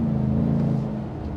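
A 2025 GMC Sierra 1500 Denali Ultimate with its 6.2 V8 pulls hard, a deep, loud engine hum heard from inside the cabin for a brief moment with no talk.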